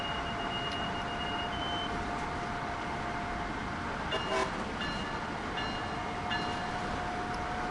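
Diesel locomotive in the game Train Sim World 5: a steady, broad engine rumble with a faint sustained tonal whine and a couple of brief clanks, no voices present.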